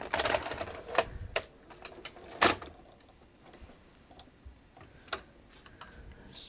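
A National NV-G20 VCR mechanism tries to load a tape: sharp mechanical clicks and ticks, a few louder snaps early on and then sparser faint clicking, heard up close and alone.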